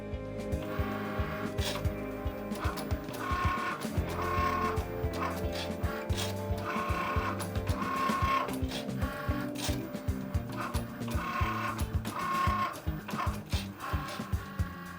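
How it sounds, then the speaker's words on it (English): A cutting machine works through material stuck on a loaded mat with steady, continuous mechanical whirring and rhythmic repeated carriage movements, fairly loud and close throughout. "The mat is loaded into the machine and away it goes."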